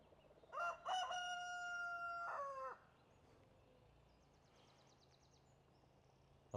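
A farm rooster crows once in a long, drawn-out call, fairly faint and at a distance, with quiet outdoor background noise and faint clucking from farm chickens.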